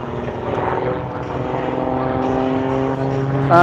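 A propeller aircraft flying upside down past the runway at the Illawarra air show, its steady engine drone loud and continuous throughout with a rising pitch at the very end.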